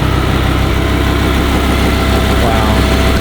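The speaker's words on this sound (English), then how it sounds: "This engine it's one of the best. One of the best in business. It sounds really good as well." A Ford V10 engine idles with its bay open, a steady low rumble with even mechanical vibration running loud and close throughout.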